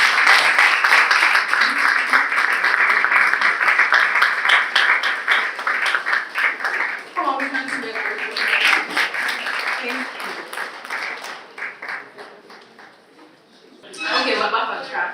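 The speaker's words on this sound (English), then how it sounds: "a very resounding round of applause for Onyeka Nwobu" Audience applause for a speaker at a tech career talk, sustained clapping that thins out midway as voices and light laughter come through, then a brief louder burst near the end.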